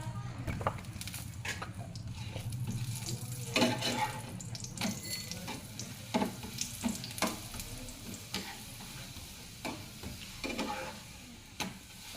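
Parotta frying and puffing up in hot oil: a constant close sizzle of bubbling oil, broken by repeated clinks and scraping taps from cooking utensils, with no voices.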